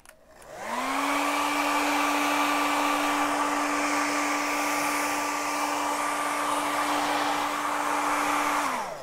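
Hair dryer blowing on freshly painted Converse sneakers, switching on with a rising whine and then a steady loud whoosh with a constant motor tone for several seconds before cutting off, no talking.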